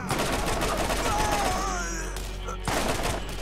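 Gunfire in the video game Borderlands: a rapid run of sharp shots crackles over busy game sound, pauses briefly, then resumes near the end, with no voices.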